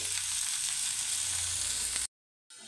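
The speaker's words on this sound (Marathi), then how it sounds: "कोबी आता या तेलामध्ये छान परतवून घेऊ" Shredded cabbage sautéing in hot oil with turmeric and salt for kobi pithla, a steady bright sizzle close up that cuts out abruptly, then resumes briefly.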